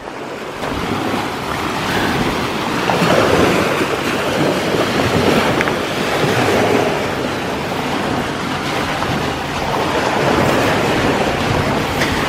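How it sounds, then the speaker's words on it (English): Ocean surf breaking on the shore at Auger Springs, a continuous loud wash of surging waves mixed with gusting wind buffeting the microphone, with no voices. "Just do wave sounds for hours on end."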